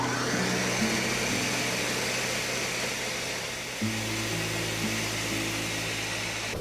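A small electric kitchen chopper whirs loudly while chopping fresh basil leaves, a steady motor drone that shifts pitch partway through as the load changes, with no talking.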